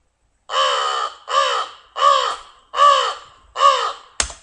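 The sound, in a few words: American crow cawing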